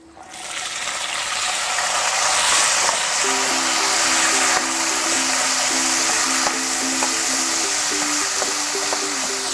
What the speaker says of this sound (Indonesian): Kita pakai minyak sedikit aja ya, kemudian langsung aja kita goreng.